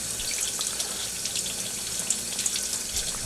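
Cold water runs steadily from a tap while the bottom of a freshly poured agarose gel is cooled, producing a continuous broadband hiss with small splashy spikes, close and moderately loud, with no talking.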